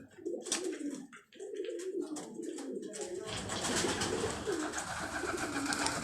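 An old pigeon on a Karachi rooftop coos in soft, rolling, repeated calls close by for the first half, then a louder broadband rush covers the rest.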